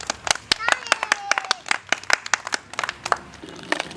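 Children and adults at a Republic Day school gathering clap their hands in a close, uneven burst of sharp claps that runs the whole time, with a voice briefly sounding underneath.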